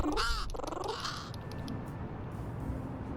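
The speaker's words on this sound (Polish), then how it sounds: "Kruk!" A crow caws in the video game Little Kitty Big City, a couple of loud harsh calls right at the start over steady game background ambience, then fading into the ambient bed.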